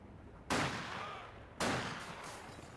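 Two loud gunshots in the video game Company of Heroes 2, about a second apart, each a sharp blast followed by a long rumbling echo that slowly fades.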